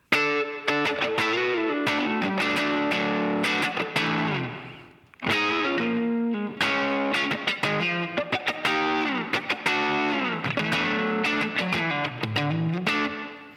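Distorted electric guitar through a Line 6 Pod Express preset with a hall reverb effect, chords and riffs played continuously with a roomy wash of tails and a brief pause near the middle.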